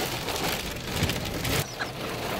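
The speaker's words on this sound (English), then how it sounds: "So we come to the conclusion that it's not ice. It's actually it's hail." Hail falls outdoors in spring in Iceland, a dense, steady hiss and patter of pellets striking surfaces, with a few heavier thumps and no voices.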